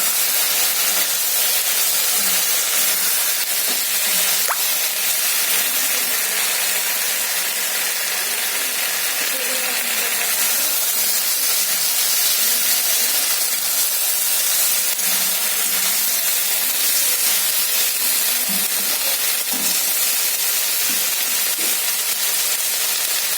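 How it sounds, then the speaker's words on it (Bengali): Boiled soybean chunks frying in oil in a pan, a steady loud sizzle and hiss running without a break, close up, with faint stirring scrapes and no talk. "এবার আমি সিদ্ধ করে রাখা সয়াবিনগুলো দিয়ে দেবো। আমি এখানে সয়াবিন ভাজিনি,"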